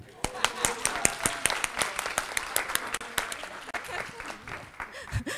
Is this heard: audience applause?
yes